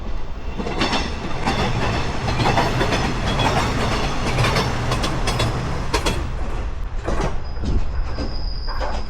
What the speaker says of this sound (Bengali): একটা ট্রেন গেল এইমাত্র আমার উপর দিয়ে